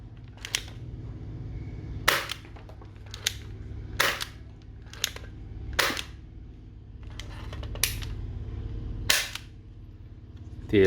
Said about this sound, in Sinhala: ඒ වගේ ඔයාලට මේකෙන් ෂූට් කරන්න පුළුවන්.